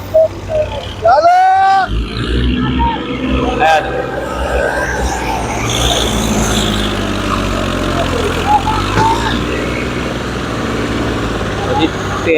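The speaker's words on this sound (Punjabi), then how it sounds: "ਇਹ 2 ਟਰੈਕਟਰ ਇਹਨੂੰ ਧੱਕਾ ਮਾਰਨਗੇ, ਇੱਥੇ ਜ਼ੋਰ ਲਾਊਗਾ" Several tractors, including a 240 model, working to push a stuck tractor, engines droning steadily under loud talk, with a brief rising whine near the start and occasional revving.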